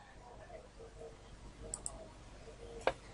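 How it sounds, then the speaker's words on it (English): A computer mouse click while saving an AutoCAD house drawing: one distinct sharp click near the end over quiet room noise, with a couple of faint ticks shortly before. "Click the save icon on the quick access toolbar."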